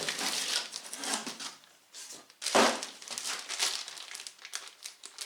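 A plastic bag from a parcel is crinkled and rustled close up, with bursts of crackling and a sharp crunch near the middle, the handling stopping and starting.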